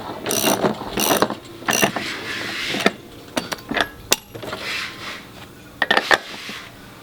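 Metal wheel nut being snugged on a paramotor quad frame, a BlackHawk LowBoy II, giving repeated close ratcheting clicks in short bursts with brief pauses, no voices.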